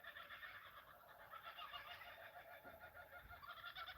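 Kookaburras call outside, their cackling, rhythmic laughing chorus rising and falling continuously at a moderate distance, fairly faint and with no talk over it.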